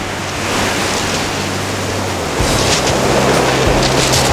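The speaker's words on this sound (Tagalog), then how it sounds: "Gaano kalalaki ang mga alon, nakakatakot." Large ocean waves crash and roar continuously at Pebble Beach in Barangay Borlongan, Dipaculao, Aurora, a loud, steady wash of surf with wind noise and a heavier surge partway through, no voices.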